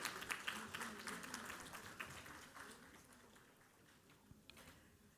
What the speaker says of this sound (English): We request all to kindly welcome, with a huge round of applause, Srimati Rajashri Birla and our panelists back to the hall.